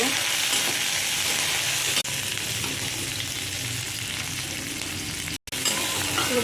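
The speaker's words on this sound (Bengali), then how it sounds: "পেঁয়াজগুলো ছেড়ে দিব, লঙ্কা গুলো ভেজে নিব" Onions and green chilies frying in hot oil in a wok give a steady, dense sizzle that runs close and loud throughout, broken only by a brief dropout near the end.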